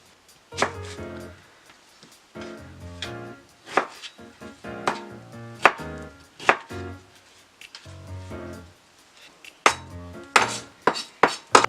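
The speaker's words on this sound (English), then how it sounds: "So strawberries are all cut up." Knife chopping strawberries on a cutting board, a sequence of sharp close knocks in irregular bursts with short pauses between them, no talking.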